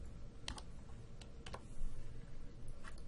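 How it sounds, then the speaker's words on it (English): Typing on a computer keyboard, a handful of faint, crisp key clicks spaced irregularly in small clusters over a low background hum, no voices. "I could just hit enter and start typing away on a new task."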